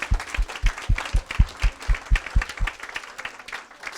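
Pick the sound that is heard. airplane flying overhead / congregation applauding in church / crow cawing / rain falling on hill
congregation applauding in church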